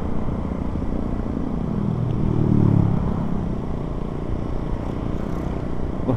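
Kawasaki Ninja motorcycle engine rumbling nearby during a group Sunday-morning ride, a steady droning growl that swells briefly in the middle before settling back to a constant hum.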